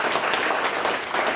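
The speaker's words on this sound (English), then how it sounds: "Very nice, round of applause." A round of applause from a seminar audience at a personal branding workshop, dense continuous clapping that stays steady and close throughout.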